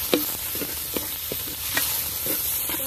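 Tomatoes and green chilies fry with onion, ginger and garlic in a pan outdoors in a park, giving a soft, steady sizzle broken by a few light stirring clicks and scrapes.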